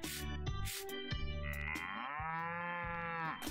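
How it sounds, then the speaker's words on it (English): An angry cow moos in the farming game Story of Seasons: Pioneers of Olive Town, several long drawn-out lowing calls in a row, loud and close with no talk over them. "Oh no, the cow is so mad."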